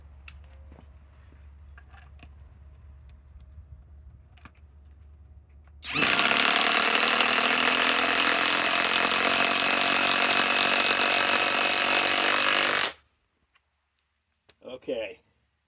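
Flex compact impact wrench running on high speed, a loud, steady hammering whir that starts abruptly, holds for about seven seconds and cuts off sharply, with quieter shop noise before and a short clatter after.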